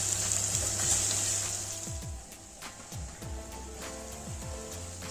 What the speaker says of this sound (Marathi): तेल सुटेपर्यंत मसाला असा परतून घ्यायचा.